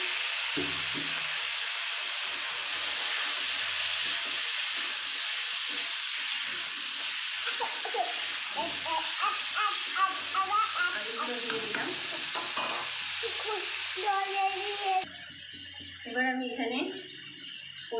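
Potatoes hit hot oil with browned onions while a rohu fish curry is being made, a steady sizzle and hiss that grows busier with stirring, while someone talks over the frying.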